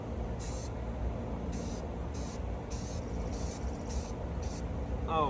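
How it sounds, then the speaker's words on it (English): High-gloss blue enamel spray paint hisses from an aerosol can in seven short, evenly spaced test bursts on an old Ford New Holland tractor, close and clear against a low outdoor background rumble. "Get a little test spray."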